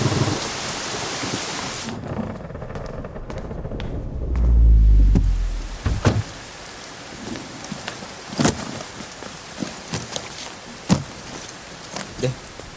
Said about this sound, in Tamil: மழை பிச்சு உதறது.